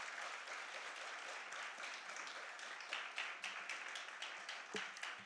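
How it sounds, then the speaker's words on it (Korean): A church congregation at a Sunday chapel service applauds in welcome, giving a steady burst of many hands clapping that sounds fairly distant and soft and lasts the full few seconds. "우리 같이 크게 박수로 환영하겠습니다"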